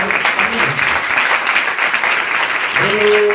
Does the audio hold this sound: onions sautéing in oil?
no